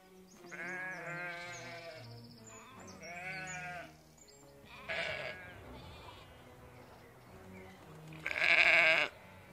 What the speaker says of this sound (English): this sheep with a wool on might not like it.